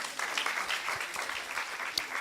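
Short burst of audience applause at a cybersecurity indaba, moderate clapping that holds steady for a couple of seconds with a brief sharper clap near the end.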